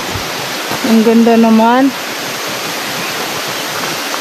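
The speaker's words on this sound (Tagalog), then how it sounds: "Unang waterfall." A waterfall roars as a steady, broad rush of falling water, with a voice speaking briefly over it.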